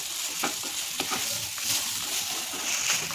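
Byadgi chillies fry in a pan with a steady, close sizzle, and occasional light stirring clicks sound over it, with no talking.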